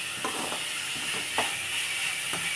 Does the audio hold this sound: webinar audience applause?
no